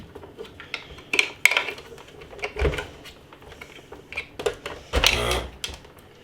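A Torp mini beer keg slides and clicks into a Krups SubCompact draught machine: a few sharp, close plastic knocks and scrapes, with someone talking softly underneath.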